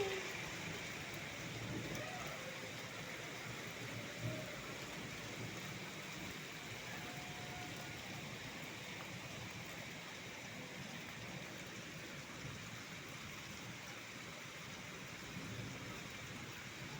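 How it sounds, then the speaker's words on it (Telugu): Heavy rain pours steadily near Sharma Hospital at Bosamma Centre in Tadepalli, Guntur district, a dense continuous hiss with gusting wind and a low rumble beneath, sustained and even throughout. "వర్షం బాగా వస్తుంది"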